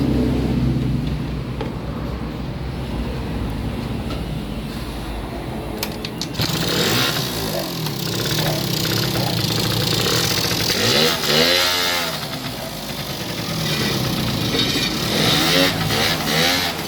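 A Yamaha Mint 50cc scooter engine revs repeatedly after carburetor tuning, a loud buzzing two-stroke drone rising and falling in pitch over a steady idle, with throttle blips in the second half.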